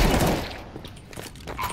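Gunfire in the video game Counter-Strike on the Nuke map, a short burst of rapid shots that fades into quieter game noise, with no talking.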